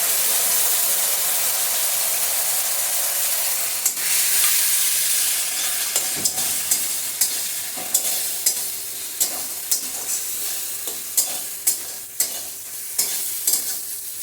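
Coconut and spices, turmeric among them, fry in a pan for taro-leaf greens, giving a steady close sizzle and hiss with regular sharp clicks of a spatula stirring against the pan.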